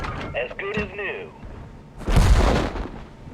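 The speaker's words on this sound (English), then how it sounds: "Those explosions are always way louder than they need to be." Artillery shell explosion in the World of Tanks video game: a single heavy boom with a broad rumbling burst near the end, following a stretch of speech from the game audio.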